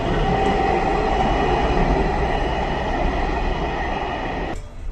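A metro train arriving at an underground station in Kanpur rumbles loudly and steadily through the enclosed space, a heavy continuous roar with a faint high whine, easing off right at the end.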